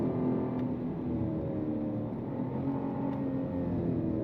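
The V8 of a 2025 Cadillac CT5-V Blackwing sports sedan roars steadily as the car accelerates on the road, a loud, continuous engine note with no voices over it.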